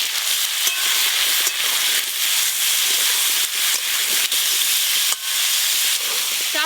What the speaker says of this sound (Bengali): সর্ষের তেল, প্রথমে লবণ হলুদ দিয়ে ওলগুলো একটু ভালো করে ভেজে নেব।